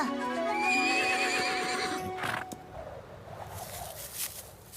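Cartoon horses whinny loudly with long, shrill neighs over the first two seconds, then a softer rush of galloping hoofbeats and scuffling takes over, with no voices present.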